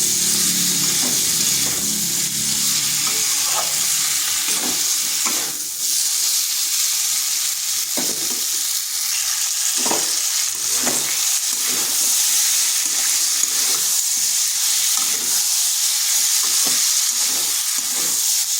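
Duck eggs and cauliflower curry are stir-fried in a pan, giving a loud, continuous sizzle and hiss with occasional scraping strokes of the spoon, close up and without talking.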